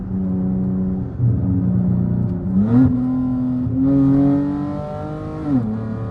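A V6 or R/T Mopar car engine in sport mode revs hard through the gears, pitch climbing and dropping with each shift, loud and close with no talking.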